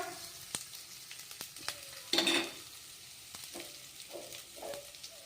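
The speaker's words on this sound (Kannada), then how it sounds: "ಇವು ಗೋಲ್ಡನ್ ಕಲರ್ ಬರೋವರೆಗೂ ಫ್ರೈ ಆಗಲಿ" Onions and urad dal fry in oil toward golden, a soft, steady sizzle with a few crisp ticks of a stirring utensil and one brief louder burst, fairly quiet and close, no voices.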